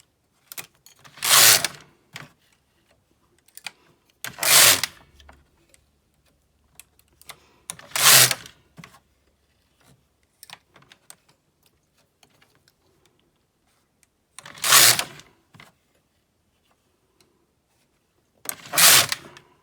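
A Brother KX 350 mid gauge knitting machine knits a slipper sock, its carriage sweeping across in loud, rasping passes every few seconds, with quiet gaps and small clicks of needles and yarn handling between.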